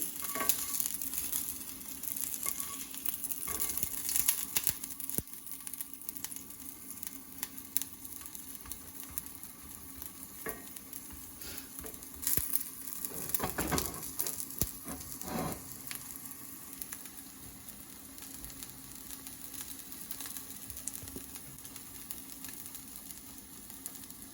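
Ragada pattis sizzling and frying in a pan over a reduced flame, a steady close crackle and hiss running throughout with small pops and ticks, no voices.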